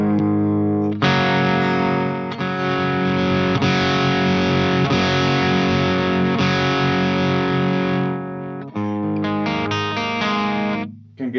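Electric guitar through a Friedman IR-X all-tube direct unit with the chorus switched off, playing loud distorted sustained chords with a few short pauses, alone without talk.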